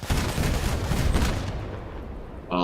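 Rapid volleys of weapon fire from a vehicle in the Crossout combat game, with dense crackling shots packed together for about two seconds before cutting off, followed by a brief electronic click.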